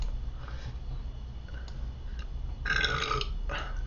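A single loud burp erupts near the end, a short rough belch standing out from a quiet room background in a casual study session.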